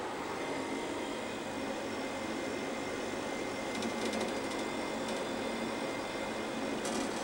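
A 3/4 horsepower refrigeration compressor runs steadily nearby, a continuous broadband mechanical hum and whir, with faint intermittent higher ticking near the end.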